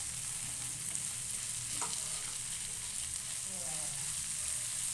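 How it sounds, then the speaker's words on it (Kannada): Ginger garlic paste sizzles steadily in a hot pan, a constant bright frying hiss with faint stirring scrapes and no talk over it. "ನಾನು ಒಂದು ಸ್ವಲ್ಪ ಶುಂಠಿ ಬೆಳ್ಳುಳ್ಳಿ ಪೇಸ್ಟ್ ಸೇರಿಸ್ತಾ ಇದ್ದೀನಿ"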